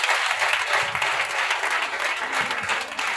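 A church congregation at an evangelical Friday sermon bursts into applause and cheering for Jesus, dense continuous clapping from a crowd with faint voices mixed in underneath.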